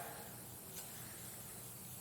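WD lubricant sprayed onto a rag for cleaning a motorcycle chain: a single soft, continuous aerosol hiss lasting a couple of seconds, close but quiet, with no talking.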